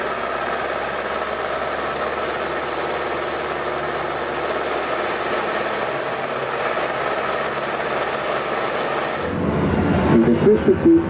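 Aircraft at an air show over a bay drone continuously at a moderate distance, a steady engine roar that drops away near the end, leaving scattered nearby clatter.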